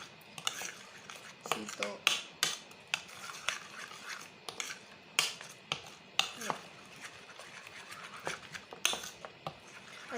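A spoon mixes food in a bowl for a quick breakfast recipe, producing irregular close clinks and scrapes against the dish, with a brief spoken word.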